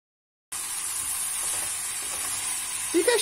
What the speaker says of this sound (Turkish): Birkaç dakikada karnabaharlarımızı da tüm malzemelerimizle beraber kavurmaya devam edelim.